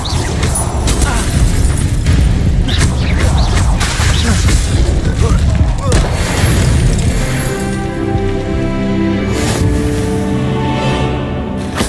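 Incendio fire spell cast in Hogwarts Legacy, a loud whooshing, crackling burst that fills the scene and then settles into a lingering magical shimmer and rumble, heard up close among other game effects.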